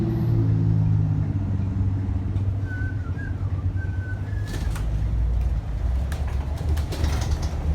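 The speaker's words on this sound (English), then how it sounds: "We are waiting on the bus to pull up." A bus pulls up to a stop: a steady low engine rumble runs throughout, with a faint bird call drifting above it midway.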